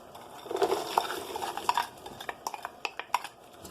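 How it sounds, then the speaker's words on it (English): Mixed vegetables go into a pot for a turkey and Spanish vegetable rice dish and get stirred, giving close scraping and clinking of a utensil against the pot in a quick irregular series of taps. "now we're going to add the mixed vegetables"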